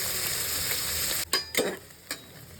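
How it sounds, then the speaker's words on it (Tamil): Onions sauté in a pan for biryani, a loud continuous sizzle broken by a few stirring scrapes and clatters near the end. "வெங்காயம் நல்லா வதங்கட்டும்"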